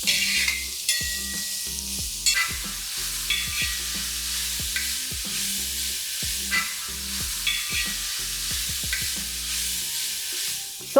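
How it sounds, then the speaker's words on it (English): Onions for Sindhi bhuga chawal sizzle steadily in a pan, with repeated clinks and scrapes of a spoon stirring them; no voices, close and even throughout. "you patiently need to fry the onions till they are golden brown in color"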